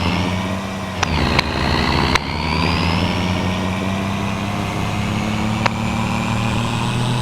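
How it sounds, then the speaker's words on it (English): A noisy, worn-sounding truck engine in Farming Simulator 25 on the Riverbend Springs map, running as a steady loud drone with a low rumble throughout, broken by a few sharp clicks. "I hate this noisy ass thing, but it's the only thing we got for a truck right now."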